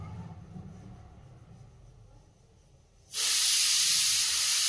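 Vegetables dropped into a hot pan of oil erupt into a sudden loud, bright hissing sizzle after a few seconds of quiet low background noise, and the sizzle holds steady to the end.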